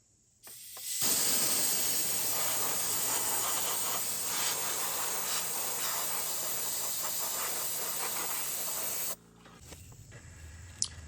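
Compressed air blasting debris off a tractor engine ahead of glow plug removal, a loud, steady hiss held for about eight seconds that then cuts off abruptly, leaving quieter workshop noise.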